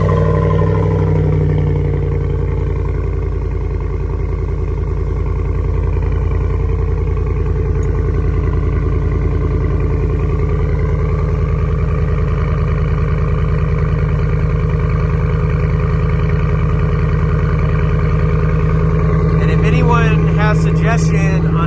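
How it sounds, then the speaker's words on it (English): A car idles after a cold start through a single Black Widow Venom 250 exhaust, giving a steady, loud, deep rumble with a faint crackle near the end, and a voice talks over it. "It's got a Black Widow Venom 250 underneath it, one single. So let's see, cold start."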